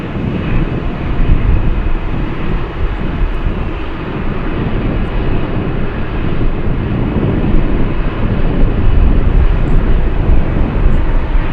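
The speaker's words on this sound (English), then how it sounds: "Up close takeoff for the 757." A Boeing 757 roars past on takeoff at close range, a loud, dense, continuous jet-engine rumble that stays strong across the whole stretch.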